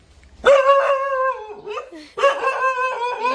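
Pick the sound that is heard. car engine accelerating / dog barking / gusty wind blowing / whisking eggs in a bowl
dog barking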